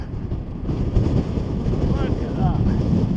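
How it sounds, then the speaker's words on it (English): Strong wind buffets the microphone on an Iceland beach near icebergs, a loud, continuous low roar and rumble with faint voice-like traces in the gusts. "it is super windy here"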